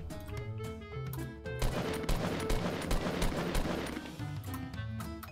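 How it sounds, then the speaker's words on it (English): Gunfire in Fortnite, a rapid burst of shots with sharp repeated cracks over steady in-game music, quite loud and close. "Oh, we're getting shot at."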